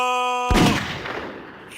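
A single sharp gunshot in a video game follows a sustained synth tone, with a short echoing decay.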